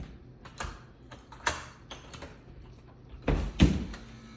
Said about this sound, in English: Door sticks a little bit.